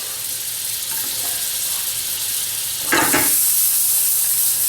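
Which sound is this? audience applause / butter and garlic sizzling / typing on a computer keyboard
butter and garlic sizzling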